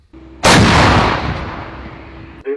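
A single massive blast from a Krab self-propelled howitzer booms close by, a deep concussive roar that rolls and slowly fades over a couple of seconds.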